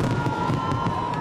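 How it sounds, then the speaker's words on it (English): Fireworks display over Sydney Harbour at a family show before midnight, heard as a steady wash of distant bursts and crackle blended with a large cheering crowd, continuous and moderately loud. "The family fireworks came first at 9."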